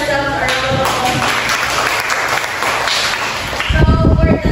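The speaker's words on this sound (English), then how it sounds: "Give ourselves a round of applause." A school class applauding together during a math demonstration lesson: dense, steady clapping from many hands fills most of the moment, then fades out, with speech mixed in.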